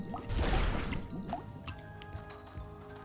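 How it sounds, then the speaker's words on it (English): Pots filled with water in the video game Wytchwood: wet splashing and gurgling pours with dripping, loudest early and then easing into softer trickles and drips, fairly quiet. "I'm going to fill them all with water."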